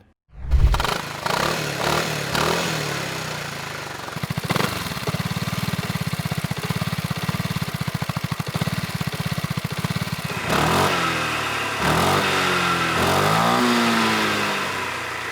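Motor scooter engines, a Honda Forza 350, BMW C400GT and Suzuki Burgman 400, started and revved for a sound check before a drag race: a loud start, steady idle, then rising and falling revs, close and alone.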